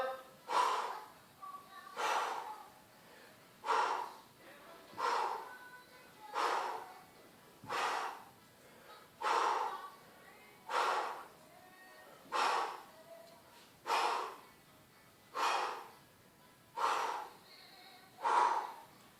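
People doing crunch exercises in an outdoor campsite fitness class exhale hard, a steady series of about a dozen forceful breaths spaced roughly every one and a half seconds, fairly close and regular.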